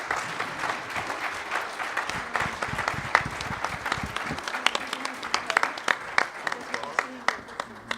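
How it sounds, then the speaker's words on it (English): Audience applause for panelists at a conference session, moderate clapping with individual sharp claps standing out as it thins toward the end, voices murmuring underneath. "Can we please give our panelists a round of applause?"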